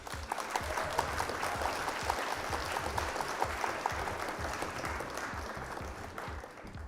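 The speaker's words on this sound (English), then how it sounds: "Round of applause for our opponent here" A crowd applauds with steady, sustained clapping that fades slightly toward the end, with a few faint voices mixed in.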